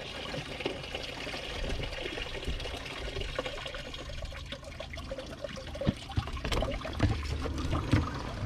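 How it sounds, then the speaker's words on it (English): Water is poured through a car radiator hose to flush the cooling system of a Peugeot 407 SW 2.0 HDi, a continuous faint rushing and trickling that goes on for several seconds. "I'm gonna try to just pour the water, a lot of water, through it, give it a good flush through"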